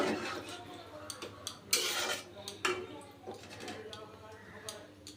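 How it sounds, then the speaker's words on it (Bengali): A spoon stirs jackfruit curry in a cooking pot just after water is added, giving repeated scrapes and clinks against the metal at an uneven pace, close and moderately loud. "এবার দিয়ে দিচ্ছি আমি পরিমাণ মতো জল আবার একটু নাড়া দিয়ে দেবো"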